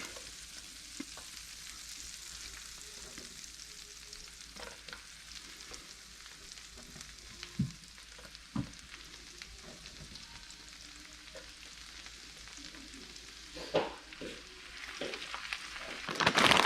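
Garlic frying in a pan for buttery garlic shrimp, a steady soft sizzle with occasional stirring clicks and scrapes, close and moderately quiet, louder near the end.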